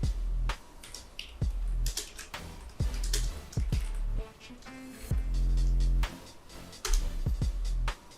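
Computer keyboard typing, brief clusters of sharp clicky keystrokes separated by short pauses, close and fairly quiet, with no talking.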